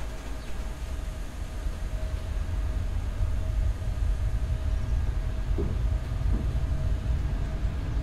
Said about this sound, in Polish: Pociąg rusza.